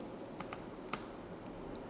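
Someone types a command into a network switch's CLI on a computer keyboard: a few faint, scattered key clicks with uneven spacing in a quiet room.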